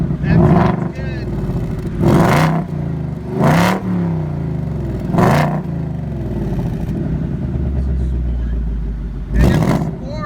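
Repeated sharp revs from a 2018 Ford Mustang exhaust in sport mode, several loud bursts spaced a couple of seconds apart over a low idle rumble, close up, with a voice talking between them.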